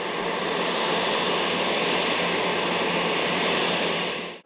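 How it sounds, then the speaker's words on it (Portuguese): Jet aircraft arriving at Manaus airport and greeted with a water salute, its engine roar loud, broad and steady before cutting off abruptly. "A aeronave foi recebida com uma saudação de águas."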